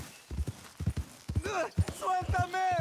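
A horse's hooves clop in a steady, rhythmic trot across rough terrain in Red Dead Redemption 2, the close thuds continuing under brief voice sounds and tonal game audio.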